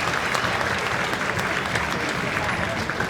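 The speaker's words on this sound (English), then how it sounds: "so give Joe a big round of applause" An audience at a junior school spring concert claps in a sustained burst of applause, a dense, even patter from a roomful of hands at moderate volume throughout.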